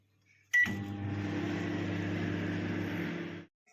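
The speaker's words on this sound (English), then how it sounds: "Microwave for 1 minute." A microwave oven starts with a click and beep, then hums steadily with a low mechanical drone for about three seconds before stopping.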